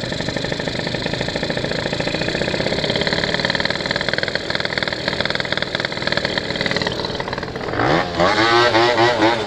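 A 50cc scooter engine with its idle screw turned down, idling loud and close with a steady, rapid putter that shifts pitch and rises near the end.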